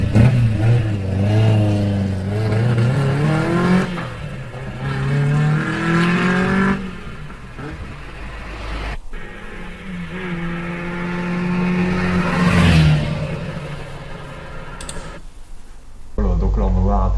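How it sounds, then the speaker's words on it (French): A Renault 8 Gordini with an inline four-cylinder engine revs hard, rising in pitch over several seconds, then eases off and climbs again in a second loud, close acceleration. "Une petite accélération de la R8 Gordini pour voir un peu la puissance de ce"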